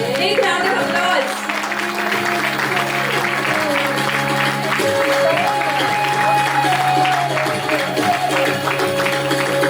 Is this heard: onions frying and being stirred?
no